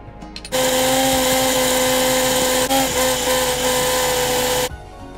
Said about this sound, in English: all of these ingredients are now going to go inside of our blender and get pureed